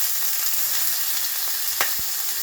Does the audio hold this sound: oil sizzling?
yes